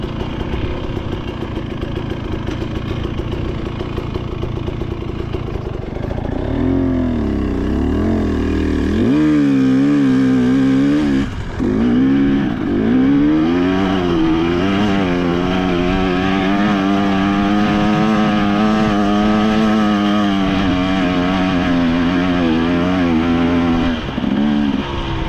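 A dirt bike engine idles roughly, then revs hard and holds a high, strained drone while climbing a hill at Peach Valley, loud and close with small dips in pitch as the throttle varies.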